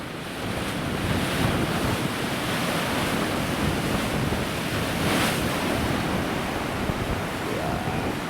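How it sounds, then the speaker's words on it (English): A big ocean wave breaks on the shore on a windy day, a loud continuous wash of surf mixed with wind noise buffeting the microphone. "Oh, this looks like a big wave."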